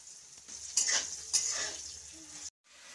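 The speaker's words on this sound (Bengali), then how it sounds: "আমি এখন সিম ভাজা করছি কড়াইয়ের মধ্যে।" Flat beans fry in a wok, giving a soft sizzle broken by brisk stirring scrapes near the start and middle before the sound cuts off abruptly, with no voices.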